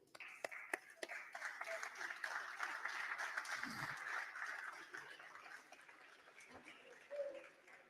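An audience at a sports press congress in Rome applauds, a soft, distant patter of clapping that continues for several seconds while a voice talks over it.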